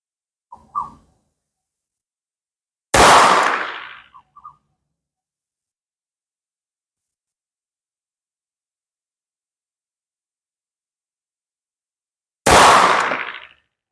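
A Beretta Bobcat 21A pistol fires two sharp, loud single shots during target shooting, about ten seconds apart, each with a short decaying echo; a faint click comes before the first shot, and the gaps are otherwise near-silent.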